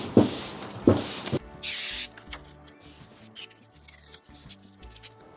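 Spray adhesive hisses onto a sheet of paper in two short bursts and a longer spray, followed by soft rubbing and handling sounds as the paper is pressed down in a workshop.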